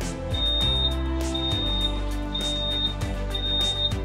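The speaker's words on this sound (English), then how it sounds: "After completed cleaning, there is a beep." A high electronic beep from an automatic transmission fluid service machine sounds four times at steady intervals over a continuous low machine hum and periodic clunks, signaling completed cleaning.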